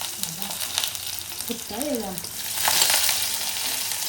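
Crushed garlic, a hot green chili and curry leaves dropped into very hot oil give a bright, loud sizzle that swells and spits, with brief voice-like sounds mixed in.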